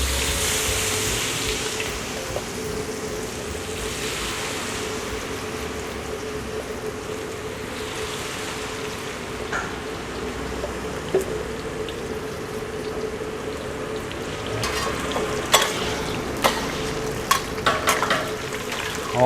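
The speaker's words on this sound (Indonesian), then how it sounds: "langsung kita goreng buncisnya" Green beans frying in very hot oil, a steady dense sizzle running throughout with a few sharper crackles and pops toward the end, close and fairly loud with no talking.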